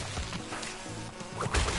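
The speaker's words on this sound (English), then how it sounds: "or want to do a decent job of avoiding the bees," Bees buzzing in the video game Crash Bandicoot N-Sane Trilogy, a steady insect drone with fluttering swells, close and fairly loud among game sound effects and music.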